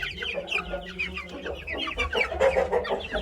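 Young turkey chicks cheep and peep in a busy, overlapping chorus of high chirps, close by and continuous.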